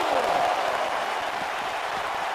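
A wrestling arena crowd in the WWE 2K19 video game, a dense, continuous roar of cheering and applause, loud and steady throughout with no break.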